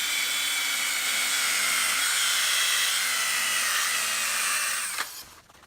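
A power buffer polishes a motorcycle wheel with a loud, steady high-pitched whine that holds for several seconds. Its pitch shifts slightly as it slows under load, then it cuts off and winds down near the end.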